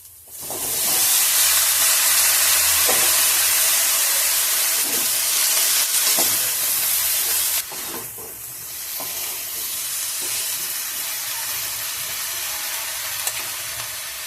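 Bottle gourd greens hit a hot pan with poppy seed paste and spices, setting off a loud, steady hissing sizzle that drops slightly partway through and carries on with faint stirring scrapes.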